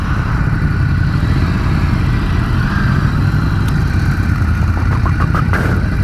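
A Ducati Scrambler 1100 motorcycle engine runs close and loud, a constant low rumble with steady idle texture throughout, accompanied by wind noise.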